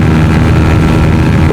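A KTM Duke 200 motorcycle engine runs with a close, loud, throaty drone that holds steady through a brief stretch without pauses.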